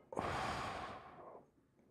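A single long, deep breath drawn in close to the microphone, rising quickly and then slowly tapering off over about a second, with no talking around it.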